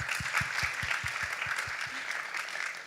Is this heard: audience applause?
yes